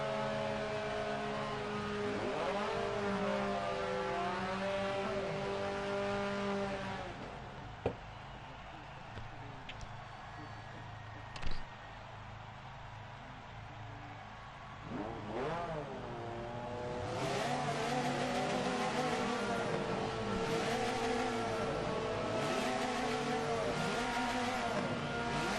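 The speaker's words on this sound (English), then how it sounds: "the revs are climbing again. You can hear them getting ready to go" Touring race cars on the starting grid at Watkins Glen rev their engines in a loud, sustained roar, pitches sweeping up and down, with brief sharp pops midway and the revving swelling again toward the end.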